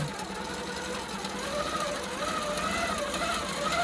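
A longarm quilting machine running in regulated mode at 10 stitches per inch gives a steady, close mechanical whir and rapid needle rattle throughout, with no talk over it.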